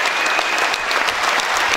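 Sustained applause from a concert audience at a spring choir concert, a dense, steady wash of clapping hands filling the whole stretch with no pauses.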